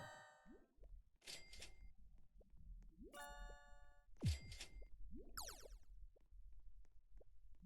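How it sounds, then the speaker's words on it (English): Several chiming, bell-like tones ring out one after another, short bright dings and bouncy tones separated by gaps, fairly quiet and heard alone without talk, fitting a phone notification sound. "A phone."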